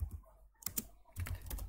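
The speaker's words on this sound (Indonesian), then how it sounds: "Kita ketikkan" Faint computer keyboard typing while entering a command in a Linux terminal: a few quick clusters of soft key clicks separated by short pauses, quiet and close.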